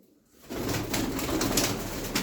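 Arab pigeons, including a mirror-tailed bird, coo softly and repeatedly nearby amid a rustling, breathy background, with no speech.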